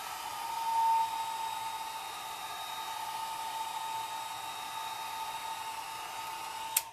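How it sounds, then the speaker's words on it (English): A hair dryer runs steadily on a low setting while used to texture alcohol ink art, a constant airy whir with a faint tonal hum, close and unbroken throughout with no voice. "And then I use my blow dryer"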